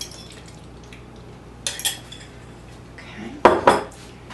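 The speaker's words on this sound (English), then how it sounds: "And we're going to stir. And this is where we need this big heavy spoon." A big heavy spoon stirs liquids into dry ingredients for dough in a bowl, two bursts of close clattering scrapes against the bowl amid quiet pauses, no talk.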